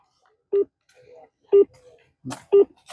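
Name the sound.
telephone dialing tones while calling the chief minister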